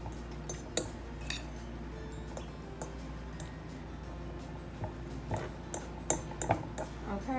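A spoon stirs a cheese and mushroom stuffing in a bowl, giving quiet, irregular clinks and scrapes against the side with a few sharper taps near the end.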